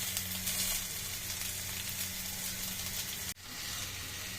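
Onions and tomato fry in a pan for a home-style chicken curry while being stirred, giving a steady, close sizzle with hissing crackle that briefly cuts out near the end before resuming.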